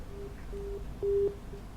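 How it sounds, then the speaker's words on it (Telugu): Telephone busy tone after a call is cut off: repeated steady beeps in short and longer bursts, clear and fairly loud over a low background hum, with no talking. "Right, call cut అయినట్టుందండి."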